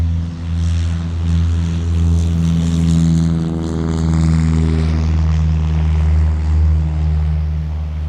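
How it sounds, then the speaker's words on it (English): A propeller-driven light aircraft takes off from a short 800-meter runway, its engine drone loud and steady with strong low harmonics, rising and shifting in pitch as it accelerates, heard nearby without talk. "Oh, it's just an aircraft taking off."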